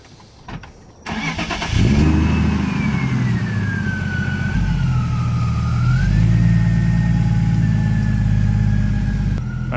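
A supercharged car engine catches and settles into a loud, close idle, its whine rising and dipping steadily for several seconds before cutting off abruptly.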